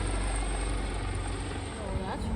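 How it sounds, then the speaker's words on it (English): A military helicopter passes overhead in Malta, a loud, steady broadband rotor roar filling the whole clip without letup. "And then a military helicopter flew over us."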